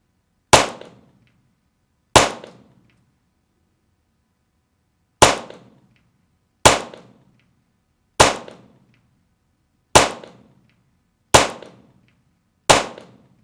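Suppressed Remington 550-1 rifle firing .22 Short rounds, eight sharp isolated reports at uneven intervals of one to two seconds, each a crisp crack with a short decaying tail, close and alone with no talk.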